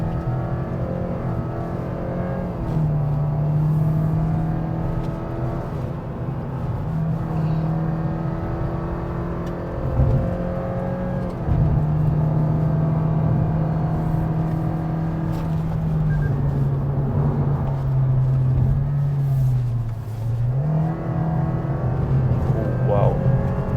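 A 2023 Toyota Vios with a CVT gearbox climbs a steep mountain road, its engine humming in a steady drone that rises and falls as the transmission holds revs. It is heard from inside the cabin with occasional speech.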